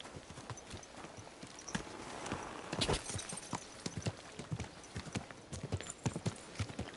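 Steady clip-clop of horse hooves at a walking pace in the video game Kingdom Come: Deliverance II, moderately close, with a brief whinny-like burst partway through.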